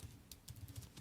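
Quick keystrokes on a compact wireless Bluetooth keyboard made for the 2012 Nexus 7 tablet, a short run of light, close-up taps in a quiet room.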